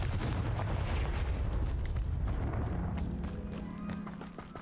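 A Confringo fire spell blast from Hogwarts Legacy erupts in a loud, dense burst of crackling, booming energy that fills the opening seconds, then rumbles on and slowly fades with a low hum, no talk over it.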